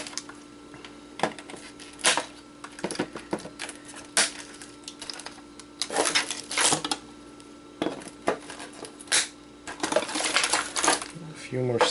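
Wire cutters snip through hot-glued wires inside a treadmill console, producing a series of sharp, close clicks and crunches spaced irregularly among handling noises.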